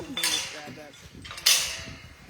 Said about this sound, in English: I'm going to step out of the double door.